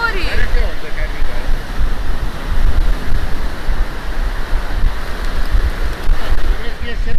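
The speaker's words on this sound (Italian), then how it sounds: "Che meraviglia è il mare così!" Sea surf on the Sardinian coast washes in a steady, loud, broadband roar, buffeted by wind noise on the microphone, with swells rising and falling throughout.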